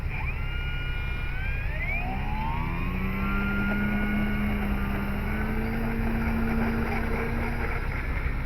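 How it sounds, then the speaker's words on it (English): An E-flite Decathlon RC plane's electric motor on a 4S 2200 battery throttles up gently, its whine rising and bending upward in pitch, then holding a steady tone as the model climbs away. "we'll just throttle up gently and get her in the air"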